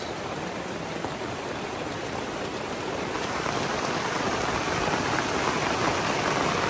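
Dense, steady rainfall hisses continuously over a jungle farm in Leyte, Philippines, growing slightly heavier partway through, with no voices.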